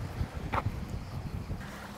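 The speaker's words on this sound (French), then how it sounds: "Il y a du vent hein, de ce côté." Wind buffets the microphone along the coastal path near Saint-Tropez, a steady low rumble with gusty surges and a brief brighter rustle partway through.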